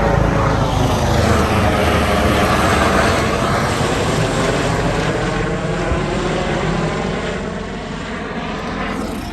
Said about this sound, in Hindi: यहाँ से हेलीकॉप्टर गुजर रहा है